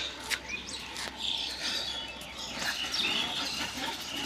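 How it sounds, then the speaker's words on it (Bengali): Birds chirp and tweet in short, high calls scattered through a foggy winter morning, fairly near and lively against a soft steady background hum, with no talk. "কিচিরমিচির শব্দ"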